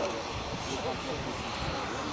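An aerobatic aeroplane at the Cotswold Airshow drones steadily at a distance, its engine a continuous faint hum beneath a commentator's voice.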